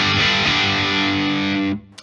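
Electric guitar through an Anasounds Ego Driver overdrive pedal in its standard middle voicing: one loud distorted chord rings out steadily and is then cut off abruptly, with no talk.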